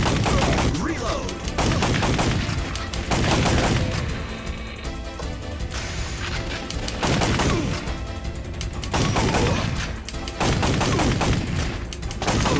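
Rapid bursts of light-gun fire in the PS1 arcade shooter Time Crisis come in loud, repeated volleys of sharp shots with short gaps between them, continuing for the whole stretch.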